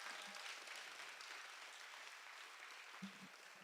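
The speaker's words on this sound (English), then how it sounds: "Why don't you give them all a hand" Audience applause at a Fast Pitch 2020 event, a steady wash of clapping from a crowd that holds for several seconds, moderately loud and even, with no talk over it.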